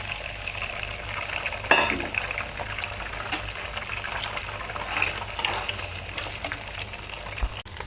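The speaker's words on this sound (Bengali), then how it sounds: "আমি এখন ডিম 3টে দিয়ে দিচ্ছি।" Three eggs fry with onions in a pan, giving a continuous close sizzle with occasional stirring scrapes and clinks.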